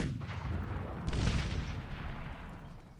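A cannon shot in the video game Cossacks 3, a loud broadband boom with a rumbling low end, heard alone with a short decaying echo and no talk.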